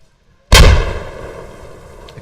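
A grenade going off in the tactical shooter Squad: one sudden, loud blast after a short silence, booming low and then rolling off into a long decaying rumble and rattle with no voices.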